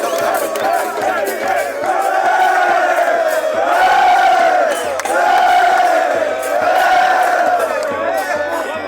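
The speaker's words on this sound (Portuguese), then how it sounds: "a torcida do Novo Hamburgo fazendo festa da classificação e os jogadores" Novo Hamburgo football supporters roar and cheer in a sustained, loud crowd din celebrating their team's qualification, with swelling shouts and chants continuing throughout.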